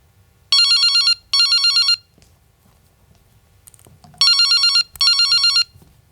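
A telephone rings with an electronic trill, two loud paired bursts, then a short pause with faint room noise, then two more paired bursts, heard up close and alone.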